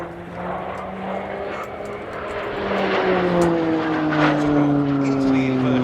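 A Slovenian Armed Forces PC-9M Hudournik propeller aircraft drones through a tight display turn at an air show, the engine note sliding steadily while it grows louder as it nears, with an announcer talking over it.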